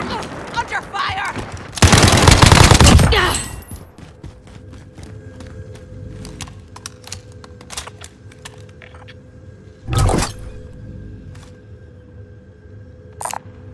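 Gunfire in a video game's gulag fight: a dense burst of shots, then a rapid string of sharp single cracks, another heavy burst later and a final isolated shot, over quiet background.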